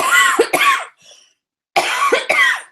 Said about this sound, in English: excuse me for a minute, I have to cough.